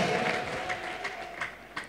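A crowd claps loudly in praise of God, with ululation mixed into the dense applause, which thins slightly toward the end.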